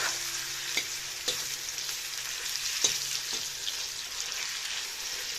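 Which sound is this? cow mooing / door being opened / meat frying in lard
meat frying in lard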